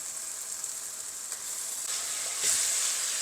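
Ground masala paste hitting a pan of roasted tomatoes for a prawn perattu, a steady close sizzle and hiss that swells louder near the end, with no voices.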